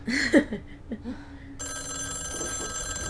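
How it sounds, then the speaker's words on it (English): A telephone rings in a TV show with a couple of shrill electronic bursts early on. A tonal, steady background score follows, moderately loud. "Pick up the phone!"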